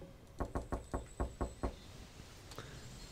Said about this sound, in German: Ich klopfe überall.